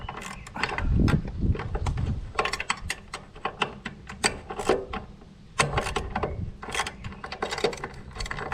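A ratchet clicks in quick, uneven bursts while loosening a car battery clamp during a roadside breakdown repair, close and crisp with brief pauses between strokes.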